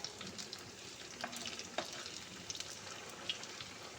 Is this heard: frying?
yes